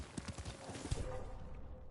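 Horse hooves clip-clop in the video game Ghost of Tsushima, quick uneven hoofbeats over a steady background bed, fairly faint and mixed with other game sounds.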